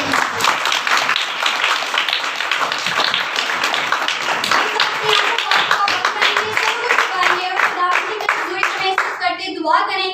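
A church congregation at a Sunday service breaks into loud, dense applause, many hands clapping continuously throughout, with voices calling out over the clapping.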